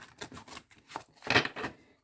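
Tarot cards being shuffled by hand during a card reading, a series of soft, quick riffling and sliding bursts with a louder flurry near the middle, close and fairly faint, with no talking.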